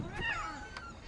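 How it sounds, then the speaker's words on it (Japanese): A cat meows once, a short plaintive call, then a softer second sound follows, heard in a quiet interior setting of an eerie old house in a game. "猫の声するけど"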